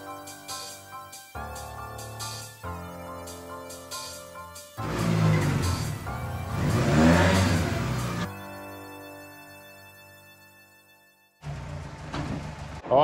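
Steady engine drone from an ST170-powered Mk1 Ford Escort cruising in sixth gear, heard from inside, with shifting tone and some louder surges, continuous and close.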